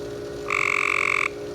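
One close frog call at a swimming pool, a rapid pulsing trill of about three-quarters of a second, over a constant low mechanical hum.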